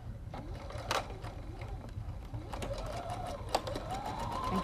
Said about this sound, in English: Then we're going to bring the sewing machine back over